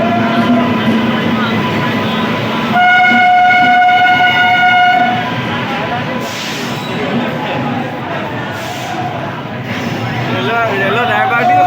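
A train pulls into Silchar station with a loud, sustained horn blast in the middle, over steady rail rumble and the murmur of people talking nearby.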